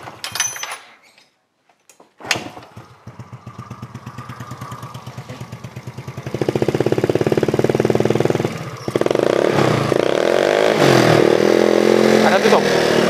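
A Yamaha Mio scooter that burns too much fuel and lacks power cranks, catches and runs at a close, loud idle, then revs to a higher throttle. A voice is briefly heard at the start.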